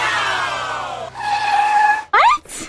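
A damaged car with one burst tyre races in a battle royale video game. A steady engine whine climbs in pitch, then gives way to a sharp, sweeping tyre screech at the end, loud and close.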